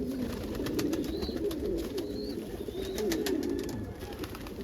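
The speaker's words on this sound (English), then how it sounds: "Look at that bird." A pigeon coos in soft, repeated low calls over a busy outdoor background of rustling and feeding birds, with a few faint higher chirps mixed in.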